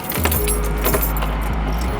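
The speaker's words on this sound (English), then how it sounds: "I'm hoping my keys still work, man." Keys jangle at a door during an unlock attempt, metallic rattles and clinks over a steady low hum, several short bursts across two seconds, close and fairly loud.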